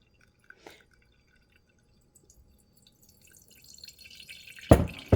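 Liquid infusion strained through cheesecloth into a jar falls as sparse, quiet drips, then builds to a louder close splashing trickle near the end.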